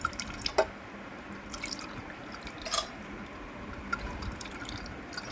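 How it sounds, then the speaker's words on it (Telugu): Tamarind-tomato extract is squeezed by hand and poured into another bowl, giving soft scattered drips and small splashes over a faint steady wet background, close and quiet, with no talking. "వేరే గిన్నెలో అయితే ఇలాగా తీసేసుకోవాలి ఫ్రెండ్స్"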